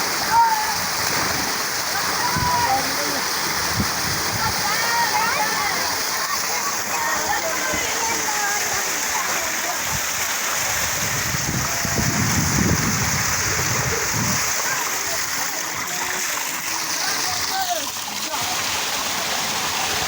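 Someone jumps into a water tank, churning splashes and sloshing water close by, continuous and loud, with people shouting and talking over it throughout.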